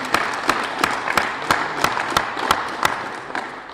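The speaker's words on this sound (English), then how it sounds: "she does deserve a round of applause." An audience claps in applause at a gathering of elected officials, the individual claps sharp and distinct in a steady, fairly quick rhythm that holds throughout and thins slightly toward the end.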